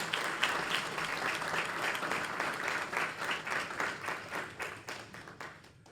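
Sustained audience applause fills the room at a workforce forum, a dense steady clatter of many hands clapping at full strength that gradually thins and fades toward the end.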